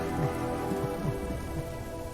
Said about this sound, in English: he's creating this storm with his sadness